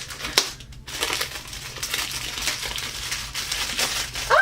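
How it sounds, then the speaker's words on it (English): Crinkly plastic or paper wrapping torn and crumpled off a book package, a steady close-up rustle with a few sharper crunches and no talking. "Let's just unwrap it."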